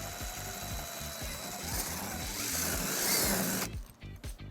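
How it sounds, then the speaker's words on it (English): A 3/16 drill bit bores into the bumper of a 2017 Subaru Impreza hatchback, a close, rising whine under steady rhythmic mechanical pulsing that builds, then cuts off abruptly near the end. "using a 3/16 drill bit,"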